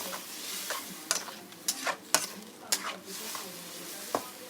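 Arvi and eggplant being stirred with spice paste in a pan: a soft steady sizzle under repeated sharp scrapes and clacks of a spoon against the pan, close and irregular.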